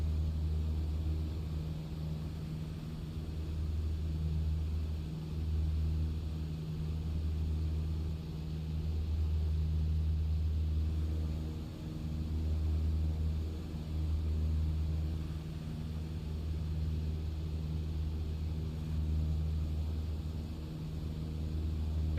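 A propeller mail plane flying over the Shetland Islands drones steadily from inside the cabin, a low pulsing engine hum with faint wavering beats as the throttle is eased back, continuous and without talk.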